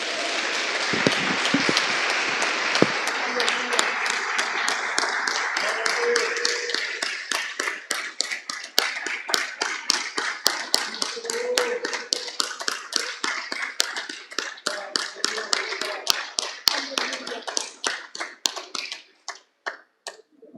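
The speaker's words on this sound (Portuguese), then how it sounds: "Vamos dar uma salva de palmas para Ele?" A church congregation claps for God during a Portuguese-language online worship service, a dense wash of applause that thins out into scattered individual claps and fades to near silence by the end.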